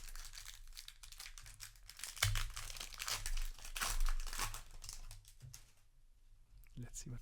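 A Magic the Gathering booster pack wrapper is torn open, giving crinkly tearing and rustling foil bursts under low background noise.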